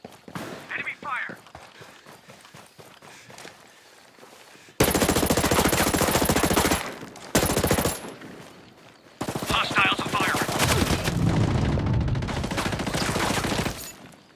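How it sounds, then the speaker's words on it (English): Enemy gunfire in the tactical shooter Ghost Recon Breakpoint during a PvP match: loud, sustained automatic bursts that erupt after a quieter stretch and pause briefly before resuming, with voices heard under the earlier part. "Enemy fire."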